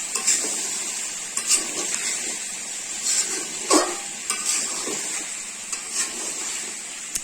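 A spatula stirs and scrapes through sizzling chicken curry with drumsticks in a new wok, with repeated metallic clatters over a steady frying hiss.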